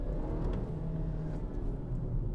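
A 2019 Volvo XC40 engine pulls under full throttle, a steady, fairly loud drone heard from inside the cabin as the car downshifts and speeds up.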